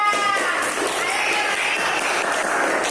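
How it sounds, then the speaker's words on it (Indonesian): A group of students claps for a classmate in a classroom, producing dense, steady applause with some cheering that holds at an even, fairly loud level throughout. "tepuk tangan untuk Kartika"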